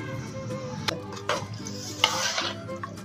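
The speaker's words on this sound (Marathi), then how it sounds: "हळद अर्धा चम्मच टाकून मी फ्राय करून घ्यायचं आहे" Chicken masala with ground spices, kasuri methi and turmeric frying in a pan, with a soft sizzle under a few separate spoon scrapes and knocks against the pan, close with no voices.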